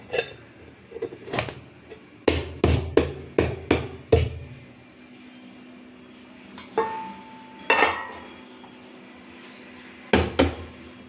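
A cooking pot in a home kitchen where hilsa fish is being prepared gets its lid put on and is set down into water, giving a series of sharp metallic clanks and knocks, fairly close, with quieter handling noises between.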